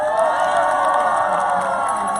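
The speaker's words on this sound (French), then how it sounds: "Je pense qu'on peut applaudir les staffs là" A crowd at a morning gathering at Château de Tiregand cheers and whoops for the staff, a loud sustained roar of voices with no pauses.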